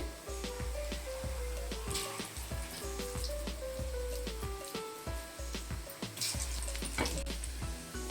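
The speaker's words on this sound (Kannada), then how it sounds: "ಇದು ಫ್ರೈ ಆಗ್ತಾ ಇರಲಿ ಅಷ್ಟರಲ್ಲಿ ಗ್ರೇವಿ ಒಗ್ಗರಣೆ ಮಾಡ್ಕೊಳ್ಳೋಣ" Bottle gourd kofta balls fry in hot oil with a constant crackling sizzle running under louder background music.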